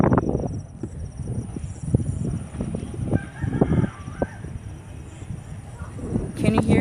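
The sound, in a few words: roosters crowing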